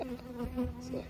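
A honeybee buzzes in a short, close drone with a steady hum that wavers slightly in pitch, heard alone.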